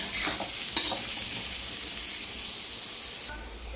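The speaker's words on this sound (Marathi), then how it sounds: "त्याला सोनेरी रंग येईपर्यंत आपण हा कांदा थोडासा कसा परतू देणार आहे" Chopped onions, two medium ones, frying in a pan for a sprouted moth bean usal, a steady sizzle and hiss with a couple of brief stirring scrapes near the start, close and continuous.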